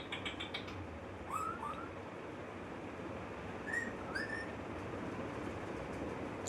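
A pet parrot whistles a few short rising notes, faint and in separate pairs, over a steady hiss of room noise, with no voice heard.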